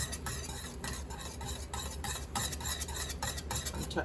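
Plum jelly at a rolling boil is stirred hard in a pot, the spoon scraping and knocking in a quick regular rhythm over a bubbling, sizzling bed of sound, close up and alone.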